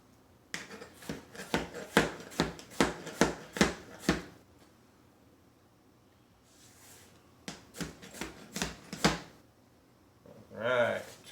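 Red onion, bacon and vegetables chopped with a knife on a cutting board for a green chile bacon hash, a rapid run of crisp, close chops, a pause, then a second burst, with a brief rustle at the end.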